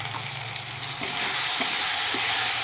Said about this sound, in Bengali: মশলাটাকে সুন্দর করে কষিয়ে নেওয়া হয়ে গেল প্রায়